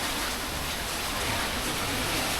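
Jokkradin waterfall near Ban I-Tong rushes in a constant, loud broadband roar of churning water, steady with no pauses.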